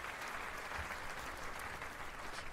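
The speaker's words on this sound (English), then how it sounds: "Can I get a round of applause?" A faint canned applause sound effect played on a livestream, a steady wash of crowd clapping at low level for a couple of seconds, with no talk over it.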